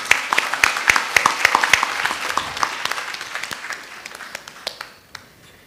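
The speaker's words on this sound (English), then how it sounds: "Big round of applause." Applause from an audience at a national HR conclave: scattered, distinct claps close by over a softer crowd wash, thinning out and fading to a few last claps.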